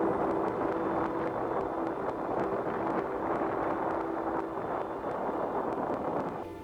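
Strong, punishing wind buffets the microphone at Chatfield State Park during a winter bird count, a steady loud roar with gusty rumble that persists without pause.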